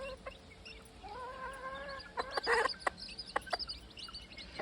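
Free-range gamefowl chickens cluck and call outdoors, with a drawn-out tonal cackle followed by a cluster of sharp, louder clucks over a steady background of rustling farmyard ambience.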